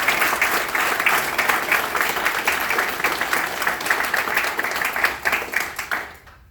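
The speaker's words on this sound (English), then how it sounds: "How about a round of applause for the special team of folks that work behind the scenes to make this event a reality, led by Technical Sergeant Behay" Sustained applause from an audience at a US Air Force retirement ceremony, dense steady clapping that carries for several seconds before fading out abruptly near the end.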